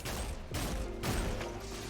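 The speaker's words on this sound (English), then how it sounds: "The strand cannon sounds fucking chonky" A chunky strand cannon fires in a video game, with heavy, punchy booming shots in quick succession and dense, loud bursts that fill the short span.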